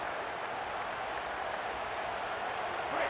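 A stadium crowd roars in EA Sports College Football, a steady, dense wash of cheering and applause that holds at an even level throughout with no clear voices on top.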